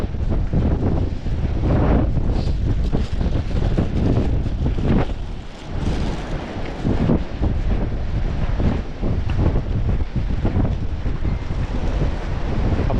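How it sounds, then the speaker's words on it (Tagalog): Strong wind buffeting the microphone in heavy, rumbling gusts, with a faint wash of sea in the background, loud and continuous throughout. "Malakas nga lang ang hangin."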